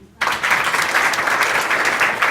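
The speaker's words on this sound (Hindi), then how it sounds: "बच्चे के लिए ताली बजाइए" Sudden burst of applause from a college audience in Azamgarh for a child, many hands clapping at once in a steady, fairly loud patter that holds without talk over it.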